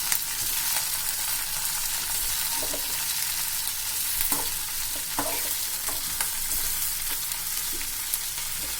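Mushrooms frying in a pan over a slowed flame for a chili mushroom dish, giving a steady close sizzle throughout with a few sharper stirring scrapes and clicks, no voices.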